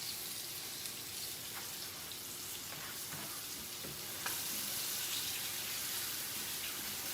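Liver browning in a frying pan, a faint, steady sizzle with occasional soft clicks, growing slightly louder partway through.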